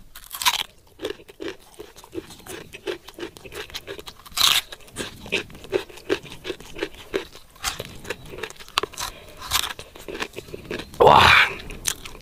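Someone chews the crunchy, tender heart of an edible tree up close, making repeated crisp bites and crunches in an uneven rhythm, with a few louder snaps.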